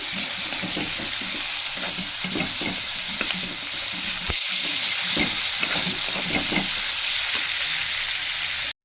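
Mustard and cumin seeds crackle and sizzle in hot oil while cooking semiya upma, with steady hissing and rapid pops, loud and close throughout, ending abruptly.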